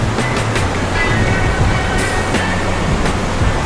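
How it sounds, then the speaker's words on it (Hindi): A river in Kalam valley, Swat, rushes below with a constant, dense wash of flowing water. The sound holds steady and fairly loud throughout, with no voices. "नीचे बहता हुआ दरिया"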